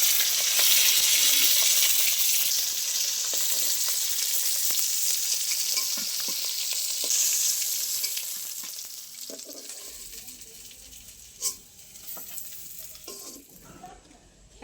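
Fish heads frying in hot oil for mug dal, a loud steady sizzle and crackle that gradually dies down, with a few clinks of a utensil stirring in the pan near the end.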